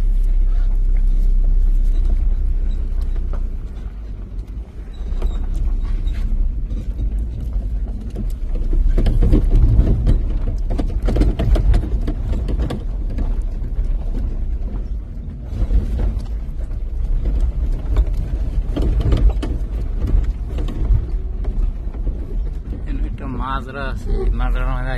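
A delivery vehicle rumbles down a mountain village road in Saudi Arabia, a steady low engine drone close by with occasional surges, while people talk over it.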